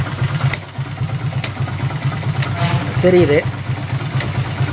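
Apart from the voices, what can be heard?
Hero/Honda motorcycle engine started and idling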